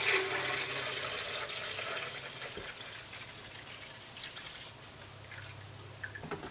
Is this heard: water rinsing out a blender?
yes